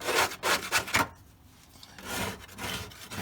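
A tool scrapes grime off the gas tank of a Chevrolet Corvette C1 in quick, rough back-and-forth strokes, a brief pause in the middle, then more strokes, close and moderately loud.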